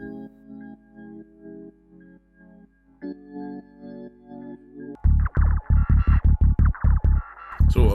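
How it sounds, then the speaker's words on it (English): A Korg MicroKorg synth through a rotary cabinet effect: a steady throbbing pulsed tone at first, then louder, rapid choppy bass-heavy notes in a quick rhythm, close and alone. "Let's add some effects, I guess, a little bit onto the synth rotor cabinet."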